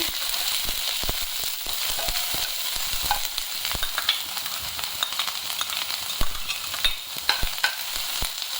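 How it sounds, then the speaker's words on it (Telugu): Onions frying in oil with cumin seeds for a dhaba-style mushroom curry, a constant dense sizzle with scattered pops and spatula stirring clicks throughout. "ఆనియన్స్ గోల్డెన్ బ్రౌన్ వచ్చినంత వరకు ఫ్రై చేసుకుందాం"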